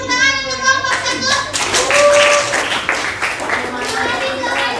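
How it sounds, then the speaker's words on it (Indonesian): Children in a classroom clap for group one, a close burst of brisk hand claps layered under the chatter of several young voices. "Oke, kasih tepuk tangan untuk kelompok satu."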